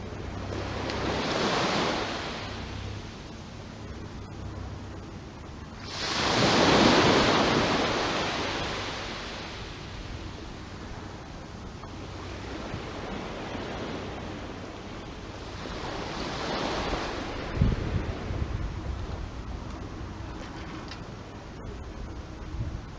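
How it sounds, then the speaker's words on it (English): Ocean waves break on the beach at Big Manly, New Zealand, in three broad, rolling surges several seconds apart, with a steady hiss of surf and some wind noise between them. "Maybe tune into the waves if you can."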